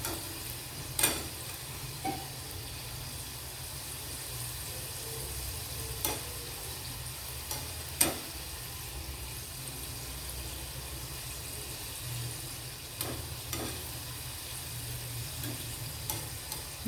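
Sweet ghughara pastries frying in hot oil give a steady soft sizzle and bubbling, broken by occasional sharp ticks and clinks of a utensil against the pan.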